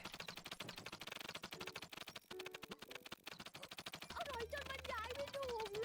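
Fast automatic gunfire from the zombie shooter World War Z rattles steadily throughout, with a clear rapid rhythm, while voices talk over it and a melodic game sound rises near the end.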